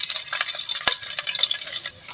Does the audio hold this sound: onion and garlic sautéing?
yes